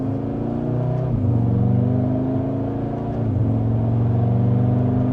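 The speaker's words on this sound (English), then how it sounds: "With a mild acceleration, we're up to speed." A luxury sports sedan in dynamic mode pulling hard in second gear, its engine a loud, close, rising drone that dips briefly at two quick shifts before climbing again.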